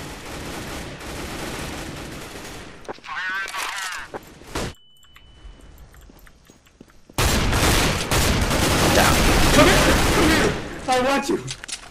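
Rapid pistol gunfire from a Counter-Strike: Global Offensive co-op match: dense bursts of shots in two loud stretches separated by a brief near-silent gap, with players talking over parts of it.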